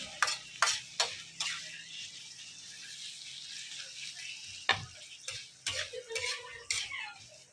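Corned beef is stirred in a pan, with a metal utensil clinking and scraping against it in irregular taps. The pan sounds quiet and close, with a soft frying hiss underneath and bursts of clatter near the end.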